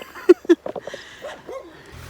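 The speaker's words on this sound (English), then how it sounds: "What are you barking at, Tiga?" Two sharp, short dog barks close by, followed by softer yips and whimpering sounds trailing off.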